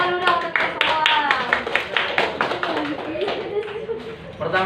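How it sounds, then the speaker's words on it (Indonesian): An audience at a group gathering in Cukuh Balak, Tanggamus claps along in quick, uneven hand claps, close and fairly loud, with voices talking and calling out over the clapping throughout. "Tepuk tangan dulu dong untuk semua."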